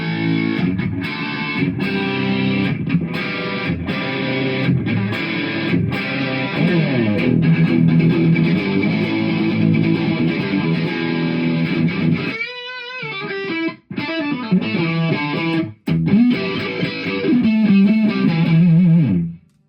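Electric guitar played dry through an amp with no effects, loud and continuous chords and riffs ringing out, with a few abrupt stops and brief muted gaps near the end.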